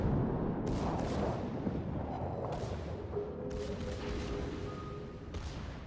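Großer Kurfürst battleship guns in World of Warships fire on a Salem cruiser: several heavy booms and sharp cracks roll out over a dense, continuous low rumble of naval gunfire, with no talking.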